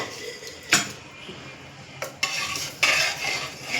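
Cooked dal is poured out with a metal utensil in a home kitchen, the ladle clinking and scraping against the pot in a few sharp knocks amid soft sloshing, fairly quiet.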